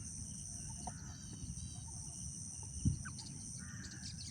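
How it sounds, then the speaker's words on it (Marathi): Birds call outdoors in a quiet rural setting: scattered faint chirps and short calls sit over a steady insect drone and low rumble, with one brief louder knock midway. "पक्षी थोड्या वेळाने ओरडत आहेत."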